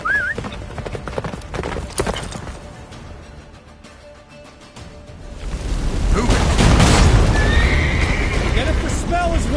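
The horse Roach galloping in The Witcher 3, with rapid hoofbeats and a sharp whinny at the start, then booming battle noise and shouting voices swelling under the pounding gallop.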